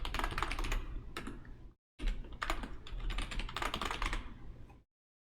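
A password is typed on a computer keyboard in quick, dense bursts of clicking keys, close and clear, with one short pause midway and silence at the end.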